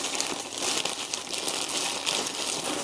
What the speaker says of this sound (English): So it's a clear plastic bag